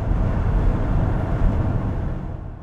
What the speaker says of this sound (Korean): 8기통 특유의 그 고동감이 어느 정도는 구현이 됩니다